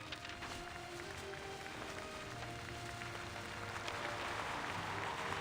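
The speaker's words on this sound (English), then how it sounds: "Applause comes from the main hall, from the balcony," Sustained applause from a large crowd in a video game, a dense steady patter of clapping that swells slightly toward the end, with a low hum underneath.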